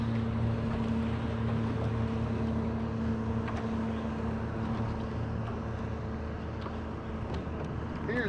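Motorboats of sightseers cruise around a lake, their steady engine drone and hum running continuously at moderate distance alongside lapping water and faint wind throughout.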